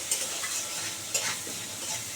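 Hog plums seasoned with salt and a little turmeric fry and sizzle in a pan, with a steady frying hiss and a couple of sharp scraping stirs of a spoon.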